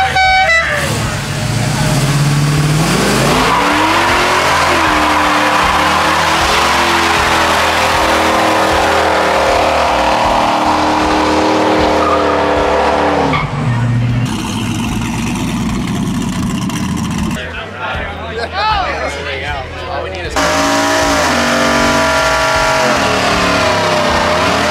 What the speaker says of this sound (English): we are about to see another burnout here,